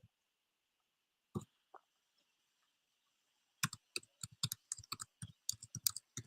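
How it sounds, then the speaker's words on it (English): Typing on a computer keyboard, a couple of isolated clicks followed by a quick run of close, crisp keystrokes against near silence, with no one talking. "I'm typing that in for you."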